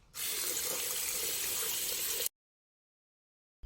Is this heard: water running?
yes